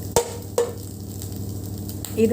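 Cashews and grated coconut sautéed in a pan for a pea kurma, with a few sharp stirring scrapes and soft sizzling close up, quiet between strokes.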